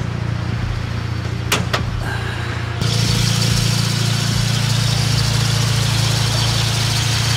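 Rotary engine of a Mazda FC, rebuilt after an engine fire, idling steadily with a loud, even hum; a couple of sharp clicks come first, then the engine note grows fuller and continues alone.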